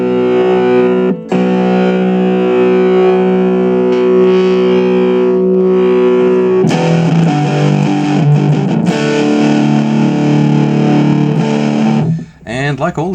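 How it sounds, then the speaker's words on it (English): Electric guitar through the distortion of a Nux MFX10 multi-effects pedal, heavy saturated chords and sustained notes, loud and close, with a sharp tonal shift midway and a brief break near the end. "like all the distortions on this particular pedal, that sounds really quite exceptional"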